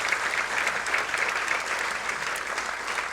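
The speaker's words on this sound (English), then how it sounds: "a round of applause for Sarah" Steady applause from an audience at a women's excellence awards luncheon, a dense even patter of many hands clapping for an honoree, sustained without pause at moderate level and with no talking over it.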